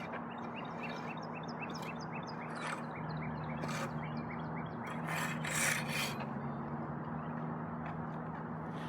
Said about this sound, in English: using an iron rake, forcefully rake the area around the base to level out the soil under and around the base